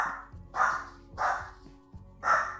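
A pet dog indoors lets out four gruff barks in quick succession, evenly spaced and fairly loud, alone over a low steady hum.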